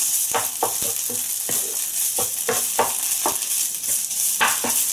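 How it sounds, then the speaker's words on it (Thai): Food for a Thai pumpkin curry sizzles steadily in a hot wok while a utensil scrapes and stirs in repeated strokes, close up, with no talking. "ใช้กระทะผัดให้หอมหรือใครจะมีหม้อก็ใช้หม้อก็ได้นะคะ"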